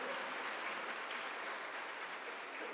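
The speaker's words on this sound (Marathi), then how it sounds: "जोरात टाळ्या वाजवा एकदा." An audience at a Guru Purnima celebration claps loudly and continuously, a thick uniform roar of many hands with no talking over it.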